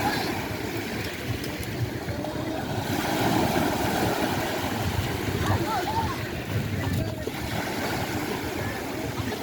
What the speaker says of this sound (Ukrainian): Вот такие вот сегодня волны.